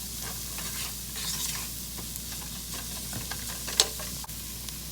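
Ingredients for a beef and chorizo chili are stirred in a hot pot, giving a steady, close sizzle with scraping spoon strokes throughout and a sharper clink near the end.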